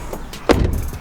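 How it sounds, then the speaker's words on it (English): A single solid thump as the door of a Subaru BRZ/Scion FR-S/Toyota GT86 swings shut, close and brief, followed by a soft interior rattle and low background hum. "Maybe if I close my door."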